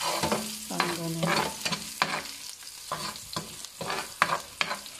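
Onion frying and caramelizing in a pan for Filipino pork in shrimp paste, a close crackling sizzle broken by repeated scraping stirs of a spatula, with no voices.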